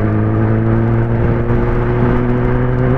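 Kawasaki ZX10R superbike engine while riding, a loud steady droning hum with strong even tones and a rough rumbling undertone, constant pitch throughout.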